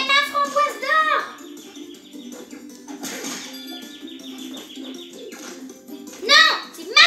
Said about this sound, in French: il y a l'oiseau qui nous embête, là, qui vient manger